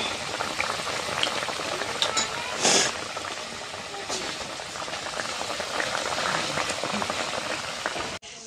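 Fish curry simmering in a pot, a steady close bubbling and sizzling that runs throughout, with one brief louder burst partway through.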